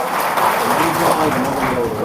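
Applause at a Gurjar community conference: a dense, steady burst of clapping from a crowd, loud and continuous throughout.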